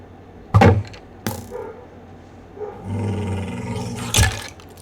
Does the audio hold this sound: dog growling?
yes